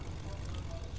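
Propeller plane engine drone in the Fortnite video game, a steady low rumble that runs the full second, with people talking over it.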